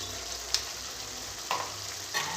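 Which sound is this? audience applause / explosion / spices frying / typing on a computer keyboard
spices frying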